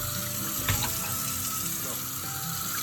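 Water poured around the outside rim of a bowl of fresh mozzarella curd pieces, a steady continuous splashing stream with a brief louder gush near the start, close and alone.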